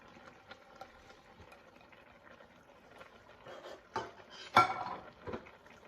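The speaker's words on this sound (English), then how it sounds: "So I'm just going to add the beans now" Canned black and red kidney beans go into a pot of vegan chilli with soft clinks and a wet slop, ending in a sharper clatter of metal against the pot, all close and moderately quiet.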